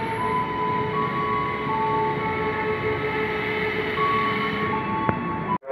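A 12-car KRL commuter train at Depok Baru station gives a steady, loud rolling rumble with a faint electric whine, continuous until it cuts off abruptly.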